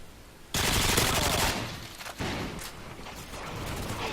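Tar rifle in Modern Warfare 2 firing in long sprayed automatic bursts, loud and rapid, with a brief pause between volleys and game noise around it.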